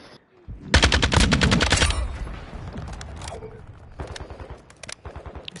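Rapid video game machine gun fire rattles in a loud, sustained burst for about a second, followed by scattered quieter shots and softer trailing gunfire.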